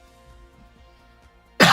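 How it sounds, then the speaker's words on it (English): A single short, loud cough bursts out close at the very end, after near silence with faint background hum. "Wish this cough would go away."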